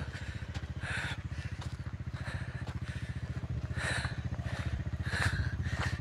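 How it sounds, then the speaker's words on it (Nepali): A motorcycle labors up a rough incline near Kunchok, Nepal, its engine thumping in a steady, pulsing rhythm with occasional clatter and shifting revs, fairly close. "उकाले अर्को बाइक त"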